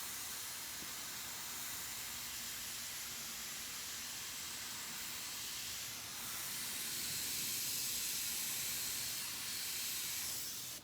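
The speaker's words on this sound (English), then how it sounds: "That is my air compressor. Big old 60-gallon air compressor." A big 60-gallon air compressor runs in an airbrushing workshop, giving a continuous broad hiss for the whole stretch with no pauses, slightly louder toward the end, and no one speaking over it.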